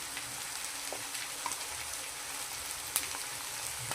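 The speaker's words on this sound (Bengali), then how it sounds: "আলু মটর আর টমেটোটা আমার ভাজা হয়ে গেছে" Potatoes, peas and tomato fry in a pan with a faint, continuous sizzle and light crackling, plus an occasional soft pop or stir, and no voice over it.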